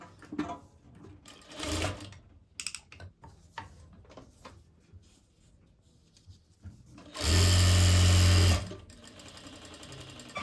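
A sewing machine runs in one loud sustained burst of stitching along the sleeve of a sleeve-cut blouse, preceded by quieter handling clicks and rustles of fabric.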